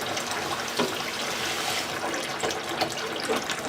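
Water runs steadily into a container around home brew wort to cool it, a continuous close rushing and splashing wash with faint gurgles and no talking.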